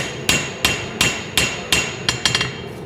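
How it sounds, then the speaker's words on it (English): Light hammer taps on a hot forged knife blade, smoothing bumps and knocking off forge scale: seven sharp metallic strikes at a steady rhythm, the last few quicker and closer together, loud and near with no talking. "It's just like lighter taps to kind of even out the bumps and pop off some of the forge scales."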